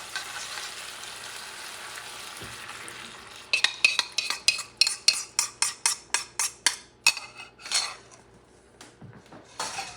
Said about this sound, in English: Here comes the sauce.